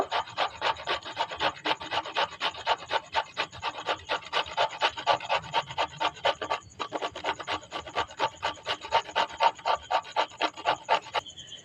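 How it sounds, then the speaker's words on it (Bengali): A carrot is grated on a hand grater, giving steady rhythmic rasping strokes, close and fairly loud, repeating evenly throughout with a brief pause midway. "ওর ওপরেই গাজরটা গ্রেট করে নেব"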